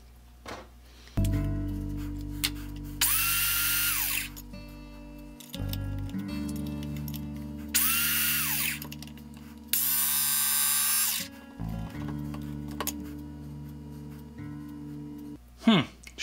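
A Black & Decker 7980 drill sharpener hums as it sharpens a small drill bit, with several loud, high grinding bursts over the motor whine. Someone talks between the bursts.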